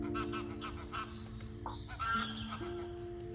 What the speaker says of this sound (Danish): okay, så er det gæs.